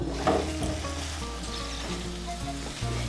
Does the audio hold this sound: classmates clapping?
no